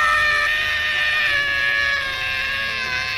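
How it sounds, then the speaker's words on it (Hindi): A horror-story sound effect of a long, sustained, high, wavering scream holds steadily throughout with faint background noise beneath and no speech. "और तभी कहीं दूर से किसी के चीखने की आवाज़ आई"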